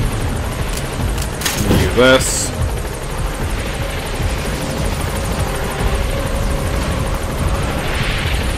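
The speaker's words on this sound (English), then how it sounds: "or the helicopter to actually, like, drop and come in." A helicopter's steady rotor drone fills the scene in Metal Gear Solid 5, with a brief whooshing sweep partway through and a voice speaking briefly.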